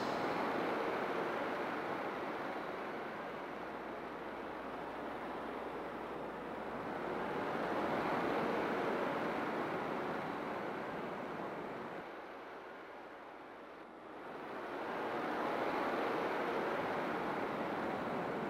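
Ocean waves in the video game Star Ocean: Second Evolution, a continuous broad wash of surf that swells and recedes slowly in long surges, steady and fairly loud with a windy hiss and no voices.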